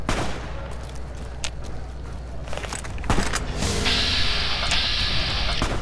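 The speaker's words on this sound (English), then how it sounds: "What are we shooting at?" Gunfire from the video game Fallout: New Vegas, heard as scattered sharp shots over a dense, noisy game soundscape with a steady low rumble. A high-pitched tone joins toward the end.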